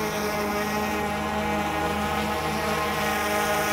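A DJI Mavic 3 drone carrying a Sony ZV-E10 mirrorless camera hovers just after takeoff, its propellers giving a steady, loud, close buzzing whine with no talking.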